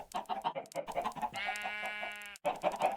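Chickens in Minecraft cluck in quick, close bursts, interrupted by a drawn-out crowing call before the clucking resumes.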